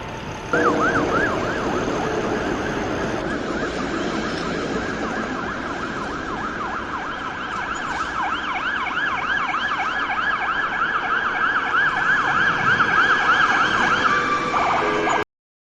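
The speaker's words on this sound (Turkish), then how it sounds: "Ambulans, bu bir ambulans. Hasta insanlara yardım eder ve hastaneye götürür." A wailing siren, like an ambulance's, sounds loud and steady for about fifteen seconds, its pitch sweeping up and down over a low rumble of traffic.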